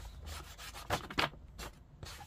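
Ink is rubbed onto a paper page in a decorated journal with repeated short scratchy strokes, close and uneven in rhythm, a few strokes louder than the rest.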